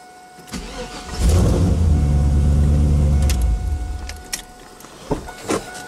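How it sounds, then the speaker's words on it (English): A car engine turns over after a boost from a portable emergency jump starter, cranking loudly for about two seconds before it catches, followed by a few light clicks and rattles. "That actually boosts the battery enough to get the car to start."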